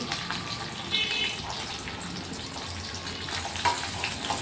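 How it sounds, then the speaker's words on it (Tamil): Mustard seeds and dried red chilies fry in hot oil for a quick dinner dish, a continuous close sizzle with occasional pops and crackles and a few brief clinks, no talk. "எண்ணெய், கடுகு முதல்ல போட்டுக்கோங்க."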